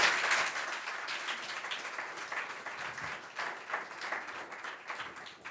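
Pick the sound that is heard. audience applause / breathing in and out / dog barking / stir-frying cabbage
audience applause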